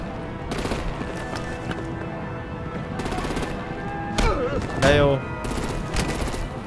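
Gunfire rattles in bursts during a vehicle ambush scene in Batman: The Enemy Within, with rapid repeated shots over a noisy background and a brief spoken voice.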